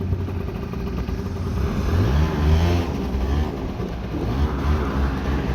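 A Yamaha Jog SA16 two-stroke scooter engine idles and revs continuously nearby with a buzzy, rattling tone, the pitch rising and falling with throttle changes.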